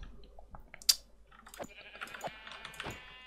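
Sheep bleating in the Minecraft video game: a couple of short, fairly close bleats alongside faint clicks and small game noises, no talk.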